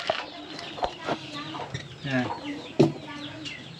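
Chickens clucking in a coop at a farmyard henhouse, a steady run of close, busy clucks and squawks with a loud peak near the end, while a person speaks briefly over them.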